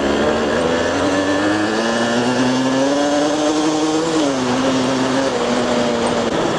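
A 1984 Yamaha DTLC 125cc liquid-cooled two-stroke motorcycle engine runs steadily and loud, its droning pitch rising slightly and then dipping briefly before settling, with no voices over it.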